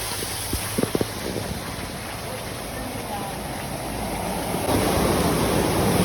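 A shallow river streams strongly past nearby in a steady broadband rush, growing a little louder toward the end, with a few short knocks and a voice talking over it.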